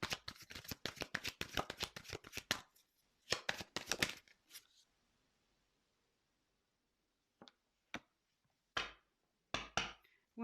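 Tarot cards are shuffled in a fast, crisp riffle of paper snaps for a couple of seconds and then shuffled again. Soft, separate taps and slides follow as individual cards are drawn and laid down in a quiet room.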